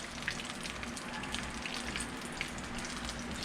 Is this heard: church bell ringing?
no